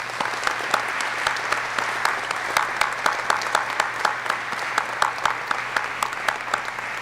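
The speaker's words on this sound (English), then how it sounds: "please help me in congratulating these graduates receiving their wings and insignia today with another round of applause." Audience applause at a U.S. Army aviation advanced individual training graduation ceremony: a sustained round of clapping from many people, with sharp individual claps popping out rhythmically over the steady wash, close and fairly loud.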